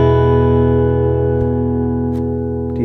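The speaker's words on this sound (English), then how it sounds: "Do you hear all the sparkly essence overtones start to ring when you're not dampening one of the main components that provide sound for your guitar?" Acoustic guitar strummed once, then left to ring with the fretting hand lifted so undamped overtones sustain; a loud, steady chord decays slowly over a few seconds, with faint handling noise near the end.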